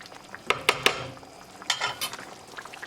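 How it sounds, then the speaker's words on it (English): A spoon stirs fresh cilantro into an aloo fish curry made with Pacific cod and potatoes, giving a few sharp utensil clicks against the pot, then softer wet scraping and taps at close range. "After adding cilantro, mix it."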